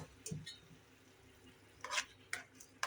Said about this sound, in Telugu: పాలు చక్కగా వేసుకున్న తర్వాత ఇలాగ కలుపుకోవాలి.